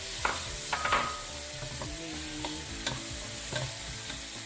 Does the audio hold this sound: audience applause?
no